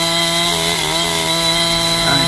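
A chainsaw cuts and carves the root of a red sandalwood tree, with a loud, continuous high-pitched whine held close and steady throughout.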